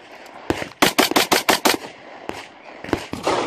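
A race gun pistol fires a rapid string of six or seven loud, close shots in about a second, then two more spaced shots follow.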